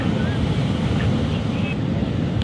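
Big sea waves crash and roar along a closed-off beach, a loud continuous surf rumble mixed with heavy wind buffeting the microphone, with faint voices in the background.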